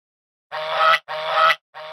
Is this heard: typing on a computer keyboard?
no